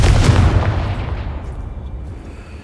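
Confringo spell explosion in Hogwarts Legacy, a loud, deep boom that hits at once and then rolls away over a few seconds into a fading rumble.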